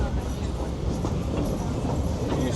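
Disneyland railroad train rolling along the rails in a jungle-themed setting, a steady, continuous rumble and clatter heard from on board, close and fairly loud throughout with no pauses.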